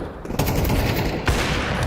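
Automatic rifle fire in a Counter-Strike 2 match at a major tournament, rapid sustained bursts with a sharper shot near the end, loud and close throughout.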